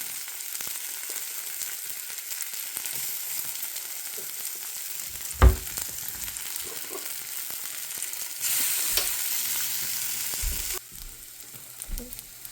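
Plant-based bacon strips frying in a pan, a steady close crackling sizzle throughout with a sharp knock near the middle and a louder hiss surge toward the end, no one talking.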